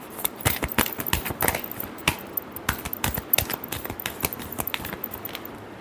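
A deck of tarot cards is shuffled by hand, producing a quick run of crisp, irregular flicks and snaps, fairly close, with no talk over it.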